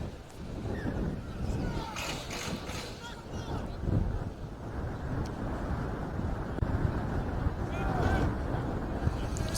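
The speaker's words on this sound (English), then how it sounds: "And the wind wrecking havoc early." Strong wind buffets the microphone at an outdoor schoolboy rugby union match, a steady gusty roar that swells and fades under a commentator's voice.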